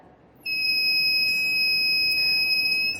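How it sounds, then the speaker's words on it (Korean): A conductivity meter with its probe dipped in vinegar sounds a steady, piercing electronic tone that starts abruptly and holds loud and unbroken for over two seconds, close by and with no talk. "식초에 전기전도도 측정기를 넣었더니 빛과 소리가 나면서 전기가 잘 흐른"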